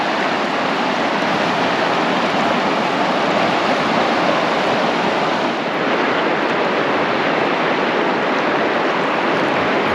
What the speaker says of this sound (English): look at this beautiful river